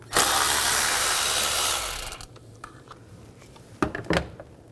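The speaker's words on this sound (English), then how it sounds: "I'm going to use a 10mm socket, take these nuts off." On a GMC Yukon engine, a 10mm socket tool loosens nuts: about two seconds of loud, close power-tool whirring, then quieter clicks and a couple of sharp metallic knocks.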